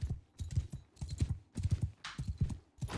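Horse hooves gallop in rhythmic clusters of clip-clop beats in the Mount & Blade 2 Bannerlord video game, faint and fairly close, with repeated bursts of rapid strikes and brief gaps between them.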